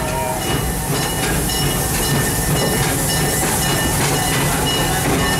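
Serengeti Express theme park train at Busch Gardens rolling along with a steady loud hiss and rumble, faint rhythmic rail clatter underneath, continuous throughout with no talking.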